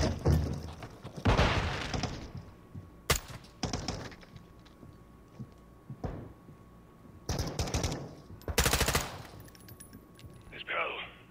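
PDSW submachine gun firing in a Call of Duty campaign mission: several short rapid bursts of automatic fire separated by pauses, mixed with sharp single cracks and game ambience, moderately loud.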